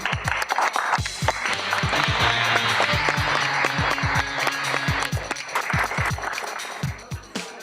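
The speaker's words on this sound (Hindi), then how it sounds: "हमारी चाची के लिए और जोर से तालियां।" An audience claps for an aunt after her singing, a sustained round of clapping mixed with sharp, rhythmic drum-like hits and a musical backing throughout.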